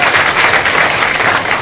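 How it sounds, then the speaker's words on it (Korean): An audience claps warmly at a student council inauguration ceremony, producing a dense, loud, continuous burst of applause that fills the whole moment. "네, 뜨거운 박수 부탁드립니다."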